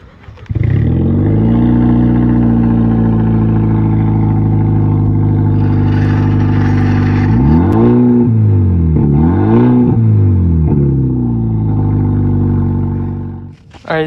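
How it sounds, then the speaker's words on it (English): A 2013 Genesis Coupe engine runs without its catback exhaust, exhaust flowing only from the cat: a loud, droning idle that swells into two sharp revs and falls back before cutting off. "now I'm gonna give you guys a sound clip of no catback exhaust"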